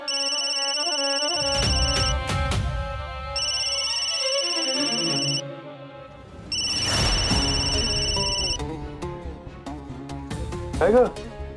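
A mobile phone ringtone repeats in bursts, a bright electronic melody that rings, pauses and rings again, with speech and a dramatic music score underneath.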